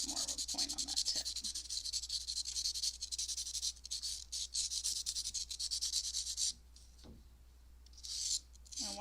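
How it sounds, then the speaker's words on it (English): A pencil tip is rubbed on sandpaper, making close, continuous dry scratchy strokes that pause briefly and resume, with no talking. "just take the sandpaper to it periodically to sharpen that up"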